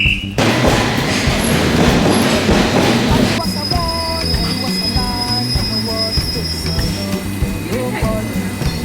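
A London train rolls along the rails, loud and close from inside the carriage, with a steady rumble and high metallic wheel squeals that whine and shift throughout.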